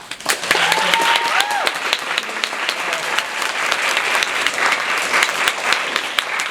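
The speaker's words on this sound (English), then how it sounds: "So I want to give her a big round of applause." An art gallery audience breaks into a big round of applause, thick and sustained for several seconds at close range, with faint voices and a brief whoop or cheer near the start.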